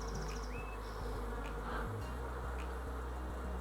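Honeybees buzzing around beehives in early spring, a steady close drone of many insects with individual bees passing near, heard alone.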